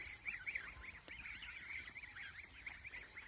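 Ducks and ducklings feeding on a farm, with continuous nasal honking and quacking calls in quick rhythmic bursts, fairly faint and at mid distance, with no talk.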